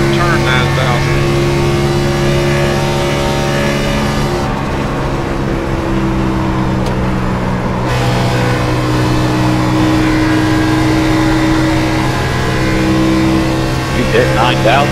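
An Xfinity race car engine in a sim racing game drones at high, steady revs with shifting tones, loud and continuous, while people talk over it.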